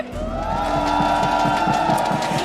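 Crowd at Stadium Juara during a Malaysian esports league broadcast, a steady swelling roar of screaming and cheering over booming music, with no talk on top.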